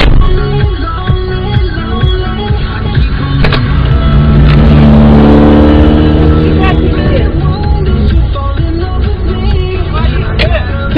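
A car engine revs loudly and close, its pitch climbing and falling in a strong sweep mid-way, with heavy low rumble throughout and an angry voice shouting over it.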